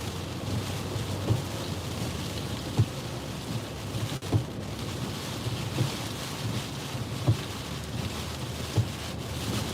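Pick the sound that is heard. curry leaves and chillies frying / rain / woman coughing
rain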